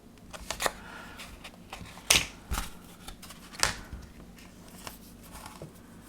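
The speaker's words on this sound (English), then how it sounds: "I follow that with my scissors" A few sharp snipping clicks from scissors, irregularly spaced and close by, over a quiet background.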